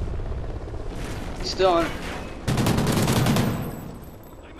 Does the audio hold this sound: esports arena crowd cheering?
no